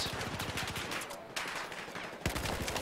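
Rapid bursts of gunfire from a Battlefield 4 competitive match, dense and continuous, with a sharp fresh volley near the end and no talk.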